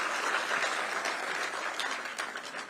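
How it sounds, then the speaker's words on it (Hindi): A rally crowd claps together on request, a dense, fairly loud burst of applause that keeps a steady wash of hand claps for a few seconds without voices. "तो एक बार ताली तो बजाइए आप लोगों को चैतन्य करने के लिए।"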